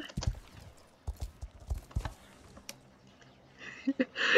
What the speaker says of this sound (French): Ça se voit que c'est un cheval de trait, du coup il sait pas trop comment il saute